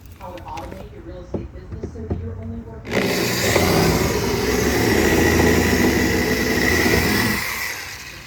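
A few clicks and taps, then a power drill drilling out rivets whirs steadily for several seconds before winding down.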